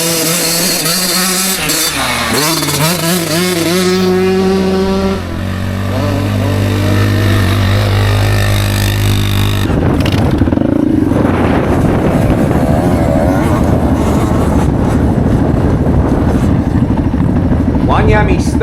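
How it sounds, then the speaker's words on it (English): Off-road motorcycles start and ride out across a rural property, their engines revving with rising and falling pitch early on, then a steady rough engine drone with wind buffeting continuing to the end. "get the motos off and head off onto the property for an arvo ride"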